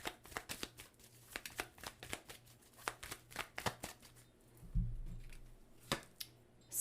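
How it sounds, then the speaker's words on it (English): Tarot cards shuffled by hand, a run of crisp rapid riffles and flicks up close, then a soft thud and a few cards pulled and laid down, with no speech. "So let's pull some clarifying cards for the Page of Pentacles"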